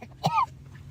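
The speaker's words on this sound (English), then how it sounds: "Coughing a lung up." A single short, harsh cough or throat clear from a clip played during a commentary stream, one burst on its own with no talk.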